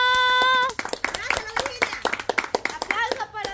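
Scattered hand claps from a small group at a lively neighborhood gathering, sharp irregular claps layered over shouting voices, following a sustained musical tone at the start.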